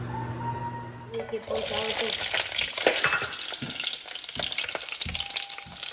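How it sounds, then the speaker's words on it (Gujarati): Green chillies frying in a pan of oil, a loud steady sizzle that swells after a quiet start and carries on with stirring scrapes, with a voice talking over it. "પહેલાં આ મરચાં છે એ તરી દઈએ આ જ તેલમાં"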